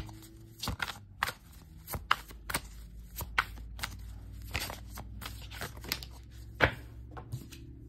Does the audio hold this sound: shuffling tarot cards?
yes